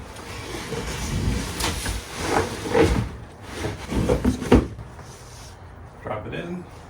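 A touring bike is lifted and dropped into a cardboard bike box, giving a series of hollow cardboard thumps, rattles and scrapes close by, with a voice speaking intermittently.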